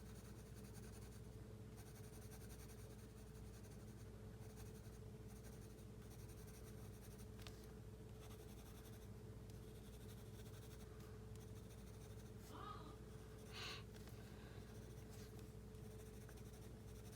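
Polychromos colored pencil, light yellow ochre, rubbed across paper in quick strokes, giving a soft, steady scratching that is faint and close, with a few brief louder scrapes near the end.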